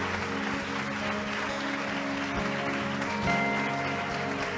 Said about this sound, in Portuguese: Vamos aplaudir o Senhor pela vida dele de novo?